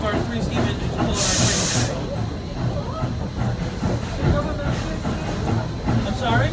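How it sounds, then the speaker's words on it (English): Steam locomotive number 3025, a vintage Essex excursion engine, pulls its train with a loud burst of hissing steam and rhythmic chuffing and clatter, heard while a guide talks over it. "and that's one of our 3 steam engines pulling our"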